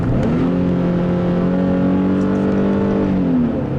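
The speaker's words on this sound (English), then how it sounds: "it will blip the throttle on downshifts" A 2013 Infiniti G37x V6 sounds a strong, steady engine note that swells, holds its pitch for a few seconds, then drops away, loud and close with no talk.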